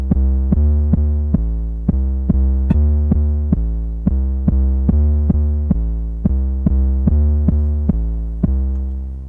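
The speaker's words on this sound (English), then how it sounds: "It's a hybrid of a kick drum sound and a tuned bass line sound" Korg Volca Modular hybrid kick-and-bass patch: a fast run of about twenty punchy, clicky low thumps, each with a quick downward pitch slide and a tuned bass tone, loud, evenly paced and alone.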